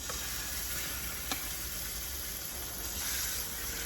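Food frying in butter in a pan gives a steady, close sizzle and hiss that runs the whole time at an even level, with a small click partway through.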